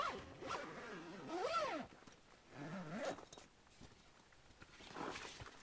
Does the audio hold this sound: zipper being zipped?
yes